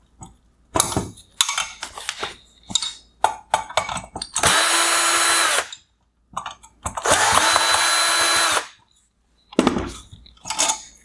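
A power screwdriver backs out the two Phillips head screws holding the cooling fan on a 2018-2019 Hyundai Sonata OEM LED headlight, with two sustained whirring runs of about a second and a half each. Clattering handling noises and short taps surround them, close and clear.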